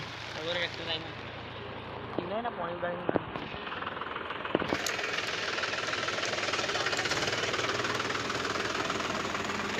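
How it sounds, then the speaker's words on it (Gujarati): A rough tractor engine chugs steadily and grows louder as it passes close by a flooded village river, with people talking over it early on. "ટ્રેક્ટર જાય છે"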